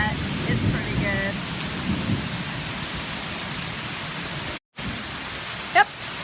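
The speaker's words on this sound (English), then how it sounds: "Yep, I'm surviving the storm." Heavy summer rain pours steadily in Alabama while low thunder rumbles beneath it, a dense continuous roar with a brief dropout and a faint voice near the end.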